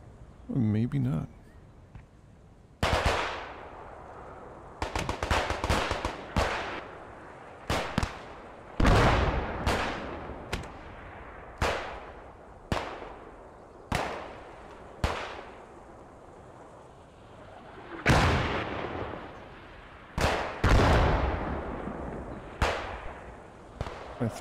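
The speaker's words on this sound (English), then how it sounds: "mortars going off from Germans. Light mortars being deployed." German light mortars in the WWII shooter Post Scriptum fire and burst in a steady series, a dozen or so sharp booming blasts with ringing decay, some near and loud, others softer, with brief talk near the start.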